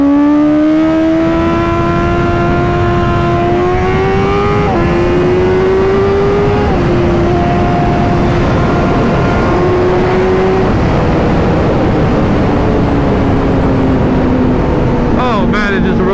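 Honda CBR 1000RR-R SP motorcycle engine at close range, loud and sustained, its pitch climbing through several gear steps with brief dips between shifts, rising again near the end over steady wind roar.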